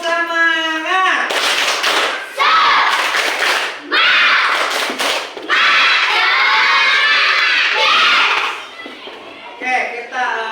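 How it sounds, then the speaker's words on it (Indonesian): A primary school class chants the tepuk semangat together, loud children's voices shouting in unison with bursts of sharp rhythmic clapping between the chanted lines. "Semuanya tepuk semangat dulu"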